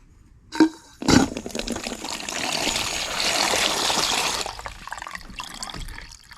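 Water draining from a newly installed frost-free hose bib on a PEX line after shutoff: two short knocks, then a steady splashing trickle for about three seconds that fades to faint dribbles.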